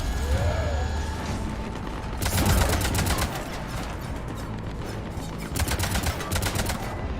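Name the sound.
cannon fire in the video game Mass Effect 3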